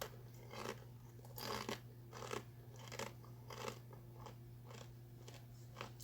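Someone at home chewing crunchy food: a string of faint, close, rhythmic crunches roughly every half second, over a steady low electrical hum.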